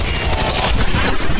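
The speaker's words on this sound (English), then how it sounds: "turn his attention and some gunfire onto this stun lancer" Gunfire in the XCOM video game: a rapid burst of loud shots in quick succession, close and punchy, running through the whole moment.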